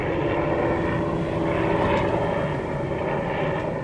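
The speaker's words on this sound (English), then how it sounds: "helicopter coming." Aircraft engine droning steadily overhead outside near an apartment building, a continuous rotor-like roar that holds loud and even throughout without talk.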